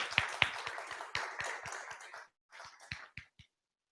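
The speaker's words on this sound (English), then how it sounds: "Let's give Joshua a round of applause." A small audience at a December 2015 lightning talks event claps for a speaker, a few sharp early claps swelling into sustained applause, then a brief pause and scattered final claps that quickly fade.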